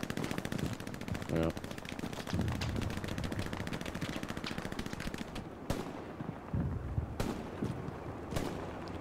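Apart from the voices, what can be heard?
SMG and machine gun fire in a video game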